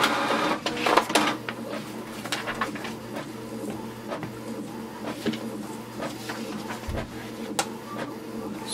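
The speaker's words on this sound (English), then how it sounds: "And just wait for the printer to print." Canon TR4550 all-in-one inkjet printer printing a page, with a continuous mechanical whir, steady hum and repeated clicks and clunks close by, with no talk.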